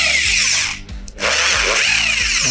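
A XENON HD500 SDS Plus electric rotary hammer drill runs loud and close with a rapid hammering rattle, pausing briefly mid-way before starting again at full force.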